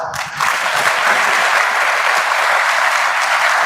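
An audience at a university event at KNUST bursts into loud, sustained applause, many hands clapping steadily together after a brief moment of quiet.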